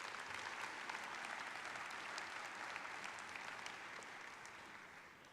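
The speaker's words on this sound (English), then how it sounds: "Let's give them another round of applause as they leave the stage." Sustained applause at a convention business session, dense and steady clapping from a large crowd that tapers off slightly toward the end.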